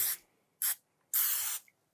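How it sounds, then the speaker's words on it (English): Cooking spray hisses from a can onto a non-stick pan in a kitchen, two short bursts and then a longer spray, close and clear against near silence. "I'm just gonna spray my pan here"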